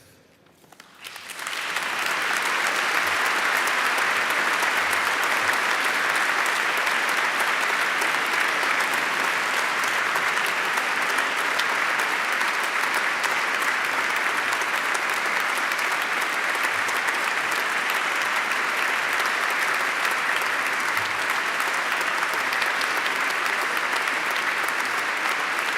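An audience in a cathedral, at a farewell Mass for a bishop, breaks into sustained applause that starts after a brief quiet moment, then stays dense and even for over twenty seconds with no talk over it.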